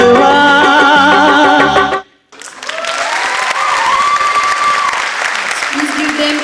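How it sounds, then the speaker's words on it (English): Music stops, and after a brief pause an audience at a Kidzee preschool's annual day event breaks into loud, sustained applause that carries on steadily to the end, with faint voices mixed in. "Please give them a big round of applause"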